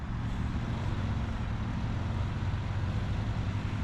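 A compact car's engine drones at high revs while towing an old classic Malibu boat near a sandbar, a steady, loud, continuous roar with no distinct pauses.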